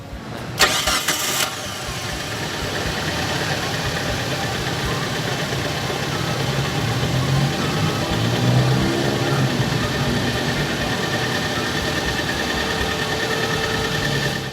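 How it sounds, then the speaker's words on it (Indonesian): A 2001 Suzuki Karimun DX car engine idles steadily and evenly for a long stretch after a brief burst of noise at the start, with no talking. "Nanti juga bakal gue tunjukin suaranya biar kalian bisa dengar suara mesinnya."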